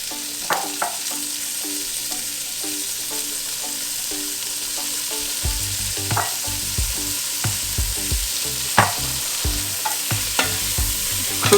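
Pound of peeled, deveined wild Gulf shrimp sizzling and frying in a pan, with steady hissing and repeated scraping stirs and utensil taps close by, no talking.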